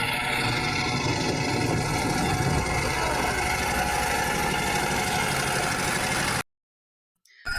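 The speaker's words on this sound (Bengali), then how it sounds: "আমরা ছোট্ট একটা ট্রলার নিয়ে গেছিলাম।" A small wooden river trawler's engine drones close and steady at an even, unbroken level, then cuts out abruptly near the end, leaving near silence.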